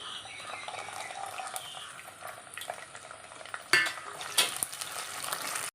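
Garlic, curry leaves and bird's eye chilies sizzle in hot oil in a pan for vadukapuli lime pickle. A steady close frying hiss runs with stirring scrapes, and a louder spitting burst comes partway through.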